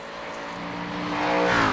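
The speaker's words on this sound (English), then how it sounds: "So Ron Holmes will roll on to the racetrack here." A race car rolls onto the Watkins Glen racetrack, its engine note a steady hum that climbs and swells louder as it gets going, heard close and alone for under two seconds.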